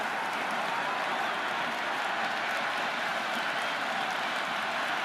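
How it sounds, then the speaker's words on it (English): A cricket crowd in the stands at an IPL eliminator match between SRH and RR keeps up a steady, dense roar of cheering and applause, continuous and broad with no single standout claps. "There's a buzz, a real buzz coming from the stands."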